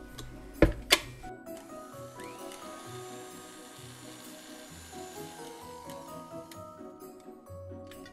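A stand mixer beats meringue for Burgenland Christmas cookies with a steady, faint motor whir that shifts pitch slightly. Two sharp knocks sound near the start, and no one speaks.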